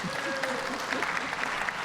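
Steady applause from a town hall audience at a budget meeting, a continuous crowd clatter with a voice faintly audible beneath it.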